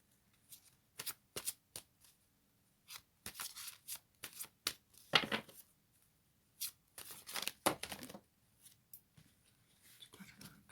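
A deck of tarot cards is shuffled in quiet, crisp bursts of riffling and snapping, separated by short pauses, close to the microphone.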